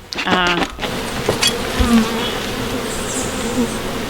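Steady buzzing of many honey bees fills the clip, a close, continuous hum with a few brief clicks and knocks at the start.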